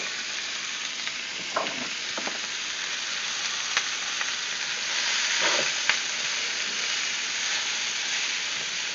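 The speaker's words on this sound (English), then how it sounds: "So I'm just browning my onions for my Philly cheesesteak." Onions browning in a pan for a Philly cheesesteak give off a steady, close sizzle, broken now and then by a few soft stirring scrapes.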